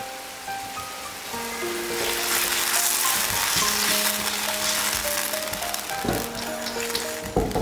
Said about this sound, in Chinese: 翻炒两下出锅